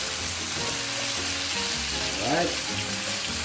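Pork legs for kare-kare sizzle steadily in a hot pan while being mixed, with a brief swell of stirring near the end and a short spoken word over a faint background hum.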